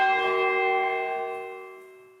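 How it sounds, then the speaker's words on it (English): The clapper strikes a church bell at St Botolph's, Worthing, giving a single loud, clear ringing tone with many harmonics that decays slowly. "As the bell approaches the upright position, the clapper moves across, striking the edge of the bell."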